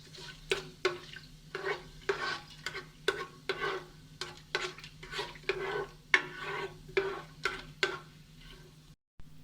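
Paprika-spiced prawn mixture for prawn biryani cooking in oil over low heat, a rhythmic series of stirring scrapes and taps against the pan over a faint low hum, about two strokes per second.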